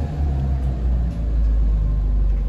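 A 1965 Volvo PV544 Sport's engine runs with a low, steady rumble as the car pulls away in first gear, heard close and moderately loud with no talking.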